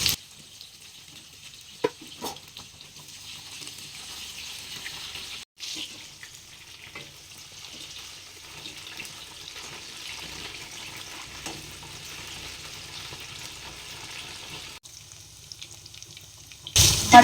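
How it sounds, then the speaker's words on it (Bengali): Raw banana, potato, papaya and carrot pieces fry together in a pan for shukto, giving a soft, steady sizzle under a quiet hiss, with a few faint clicks and a brief louder burst at the end. "কাঁচা কলা, আলু, পেঁপে একসাথে ভেজে নেব"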